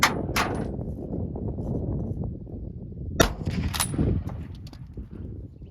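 A Remington 1917 rifle in .30-06 fires while being sighted in for deer season, with two pairs of sharp, loud cracks over steady outdoor background noise.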